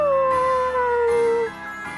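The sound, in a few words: dog howling in video game Bravely Default 2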